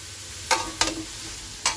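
Boiled cauliflower stems fry in a pan, giving a soft steady sizzle with three short scraping stirs of a spatula, close and alone without talk.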